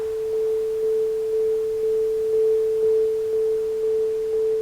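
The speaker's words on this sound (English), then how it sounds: "we're actually hitting that sine, and we're getting that to modulate, yeah, with our kick through the sidechain" A steady pure sine tone, sidechained to a kick drum in the ToneBoosters TB Equalizer Pro on iOS, holds constant pitch while its level pulses gently and rhythmically over a soft noise bed, with no voices.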